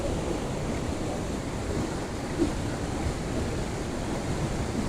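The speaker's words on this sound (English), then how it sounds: "Listening to the water in the background" Water rushes steadily in the background, a continuous even wash like surf or flowing water, with no voices over it.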